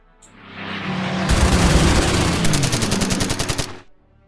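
Heavy machine-gun fire dubbed over a Spitfire's light guns, a dense rapid burst swelling into a loud sustained rattle with distinct rounds toward the end, then cutting off abruptly.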